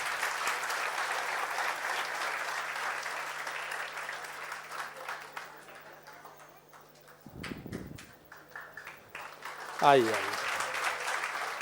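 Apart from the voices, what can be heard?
audience applause welcoming a guest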